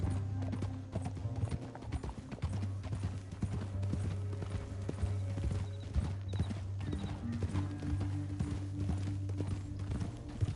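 Horses' hooves clip-clopping steadily over ground in a canyon, a continuous rhythmic trotting with an occasional whinny, fairly close and unbroken by speech.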